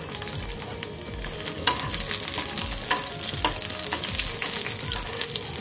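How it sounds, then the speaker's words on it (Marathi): Malabar onions frying in hot oil in a pan on a griddle, a steady, close sizzle with crackles and scattered sharp pops and occasional stirring scrapes throughout. "तेल गरम झालेला आहे, आपले मलबार कांदे यात घालून घेऊया।"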